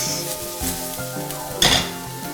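Vegetable fried rice stir-fried in a hot wok gives a steady, close sizzle, with a brief louder flare of hiss near the end. Background music plays throughout.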